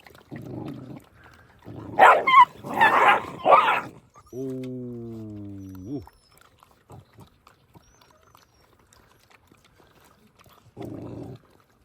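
Kangal puppies scuffle, with one brief whining, growling yelp standing out between bursts of people talking nearby.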